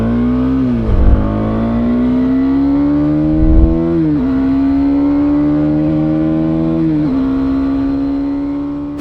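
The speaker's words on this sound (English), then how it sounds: "owing to this different silencer design that Husqvarna has given, it sounds a little bit different than the the Duke 250" A Husqvarna Svartpilen 250 motorcycle with its own silencer design idles steadily and loudly close by, with a few quick blips of the throttle. The exhaust note rises and falls slightly between the revs.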